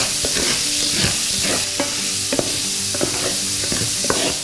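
Garlic and onion sauté in a pot over medium-low heat for a one-pot Cajun chicken pasta, a steady close sizzle broken by repeated scraping and stirring knocks from a utensil, with no talking.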